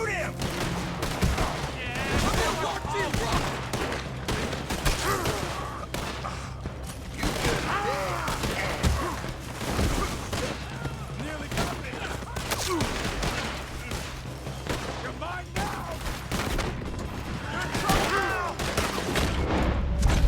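Gunfire erupts in Red Dead Redemption 2, repeated loud shots and volleys with mechanical clicks and creaks, dense and continuous amid game music, with someone talking over parts of it.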